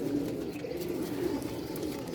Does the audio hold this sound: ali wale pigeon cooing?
yes